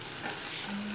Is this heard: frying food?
yes